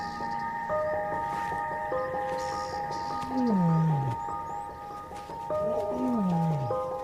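A lion roars in the still morning air on the African savanna, two drawn-out descending moaning roars at a moderate distance over a quiet background of faint birdsong and insect hum.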